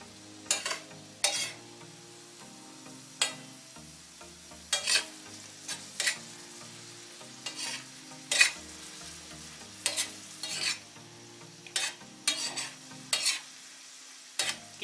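Mutton keema is fried on a tawa with yogurt, cumin and chopped ginger, under a low steady sizzle broken by repeated sharp spatula scrapes and taps at an uneven rhythm, close and clear, with no voices.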